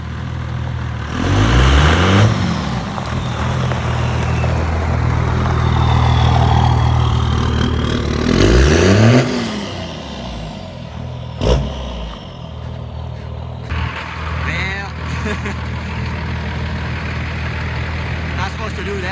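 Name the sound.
Cummins truck engine running and revving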